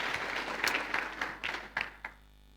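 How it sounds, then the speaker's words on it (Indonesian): An audience at a church testimony gathering claps for a couple of seconds, a modest ragged patter of hands that thins out and stops abruptly. "Ya, boleh beri tepuk tangan."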